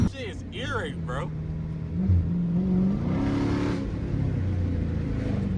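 Car exhaust rumbling and revving at a car meet, a deep engine drone that rises in pitch and holds, with people talking and shouting over it near the start.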